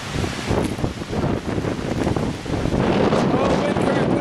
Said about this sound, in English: Oh, wind current pushing me.